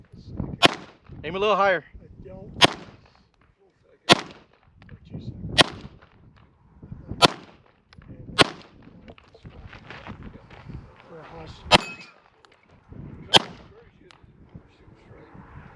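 Pistol shots ring out one at a time on a defensive pistol shooting stage at an outdoor range, sharp, loud cracks spaced a second or two apart, with people talking briefly between some of the shots.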